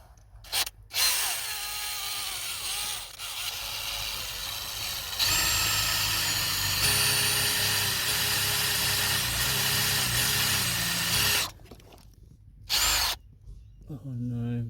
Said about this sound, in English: I'm just drilling a hole through the floor